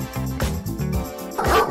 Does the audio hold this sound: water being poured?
no